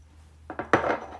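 Ceramic bowls and plates, including a donburi bowl, clink and knock together as they are handled: three quick taps followed by a rattling scrape, close and moderately loud, with no talk.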